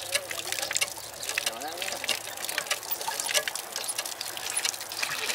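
Water splashes and trickles steadily from a hand pump spout, a continuous gurgling flow with faint voices in the background.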